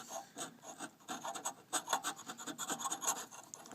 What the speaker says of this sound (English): if you get a really sharp chisel, you can generally pry it off.